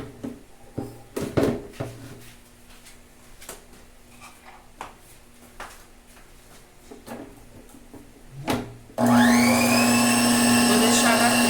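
Electric mixer starts beating eggs and sugar into a pale, fluffy cream for a soft chocolate cake, kicking in loudly and steadily after a stretch of quieter kitchen clatter.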